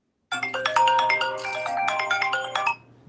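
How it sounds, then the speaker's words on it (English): A mobile phone ringtone plays loud and close, a bright repeating electronic melody lasting nearly three seconds with nothing else heard over it. "somebody's phone's ringing"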